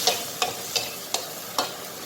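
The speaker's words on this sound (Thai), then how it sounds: "ปลาหมึกก็จะสุกไวค่ะ เราจะผัด" Sun-dried squid stir-fried in a pan sizzles under five evenly spaced scraping strokes of a spatula, a close, rhythmic stirring pattern with no one talking.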